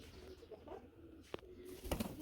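Lahori pigeons coo softly and close by with a low, throaty hum, heard over faint background noise.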